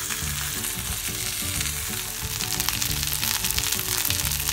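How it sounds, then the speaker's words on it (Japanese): Beef sears in a hot pan for roast beef, its cut surfaces browning in a loud, steady sizzle with the crackle of fat spitting throughout. "切れてるところはしっかりと火を入れてあげます"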